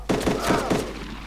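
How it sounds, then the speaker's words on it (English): Gunfire in the video game DayZ: a short burst of several rapid, heavy shots at close range, followed by a fading rumble, with no voices over it. "That was me firing, by the way."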